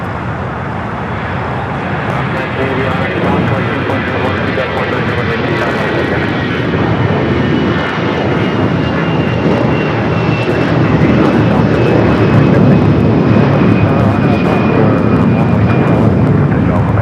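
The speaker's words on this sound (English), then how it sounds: "takeoff for the Dreamliner." A Boeing 787 Dreamliner taking off at Los Angeles airport (LAX), its jet engines giving a loud, steady roar that builds slowly over the whole stretch and blends with distant traffic, with a voice talking over it.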